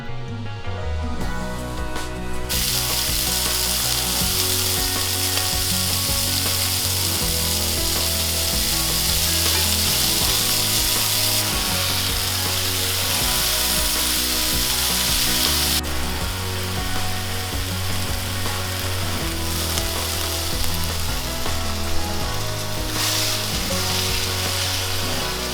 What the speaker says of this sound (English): I have this cast iron skillet over medium-high heat. I'm gonna add some EVOO, and we're gonna cook the steak in batches.